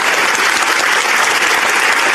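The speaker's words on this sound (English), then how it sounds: "Applause, please." A crowd at a press freedom lecture bursts into dense, loud applause, a continuous wash of many hands clapping close by for a couple of seconds with no talking.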